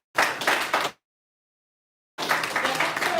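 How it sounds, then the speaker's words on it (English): Audience applause at the commissioning ceremony of a university incubation and co-working hub in Lagos, two short bursts of clapping split by a full second of silence. "Please give them a round of applause."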